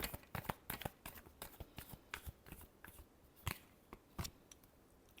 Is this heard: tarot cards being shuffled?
yes